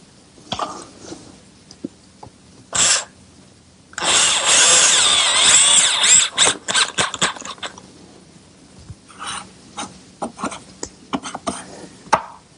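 A power drill drives treated self-drilling screws with cutting wings into outdoor planter rails in a workshop, heard as a sustained loud whir around the middle, then shorter bursts and bumps of handling.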